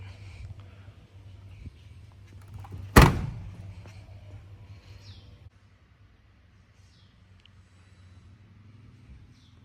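Boot lid of a 2018 Toyota Camry Hybrid 2.5 Luxury slammed shut outdoors, one loud close thunk with a short tail, faint birds chirping in the background.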